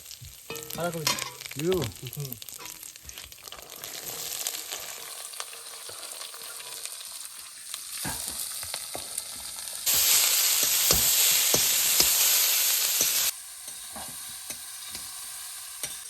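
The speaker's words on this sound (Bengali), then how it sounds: "নে এবার বাঁধাকপি ভাজা দে" Steady sizzling of cabbage frying with spices in a pan outdoors by a river, with occasional stirring scrapes; the sizzle grows louder and hissier for a few seconds midway.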